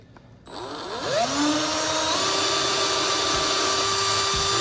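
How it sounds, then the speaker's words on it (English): A small drill bit boring a hole through the plastic of an Eshopps Eclipse aquarium overflow box, a close, steady high-pitched whine that ramps up and then holds at an even speed. "drill it in, kind of ream it out"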